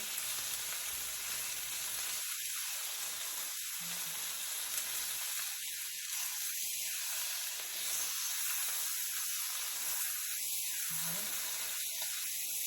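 Meat sears in a very hot, smoking pan with a continuous close hiss and sizzle, while someone talks over it in short bursts.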